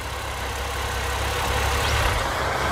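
A 2004 Porsche 40th anniversary edition, 345 hp, idles with a steady, even engine hum and faint mechanical rumble, close and continuous with no voices.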